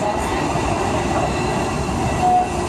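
The Walt Disney World Railroad train rolls steadily through the Magic Kingdom, a continuous rumble of wheels on track with a faint squeal rising briefly near the end, heard from aboard the car.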